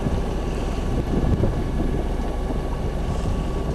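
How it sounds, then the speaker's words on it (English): A sailboat motor sailing through a channel across busy shipping lanes near Salt Spring Island, its engine giving a steady, close drone under a continuous rush of wind buffeting the microphone. "We were finally motor sailing again."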